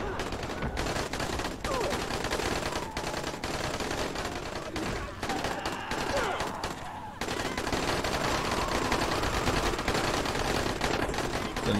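Rapid gunfire in the zombie game Dying Light: loud, dense bursts of automatic shots and single cracks, almost continuous with brief pauses, layered over game sounds and occasional voice.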